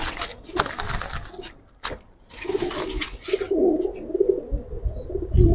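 Giribaz tumbler pigeons in a loft coo in low, throaty bursts, close by, mixed with rustling and handling noises.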